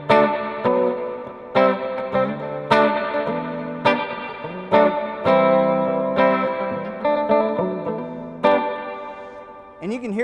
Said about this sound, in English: So we're going to switch it now from spring to hall.